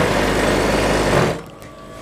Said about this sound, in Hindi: इस तरह से पहली सिलाई तो हमें नॉर्मली इसी तरह से लगानी है, दूसरी सिलाई में इसमें थोड़ा खींच के लगाएंगे